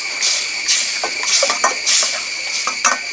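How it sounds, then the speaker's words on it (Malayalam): A pan of tomato garlic sauce bubbles at a steady simmer over a campsite fire, giving a loud, even hiss with soft popping bursts throughout and no voices. "നമ്മുടെ സോസ് തിളച്ച് മറിഞ്ഞുകൊണ്ടിരിക്കുന്നു"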